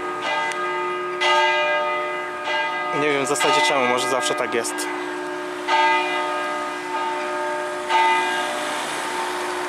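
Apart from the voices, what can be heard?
church bells ringing from a double belfry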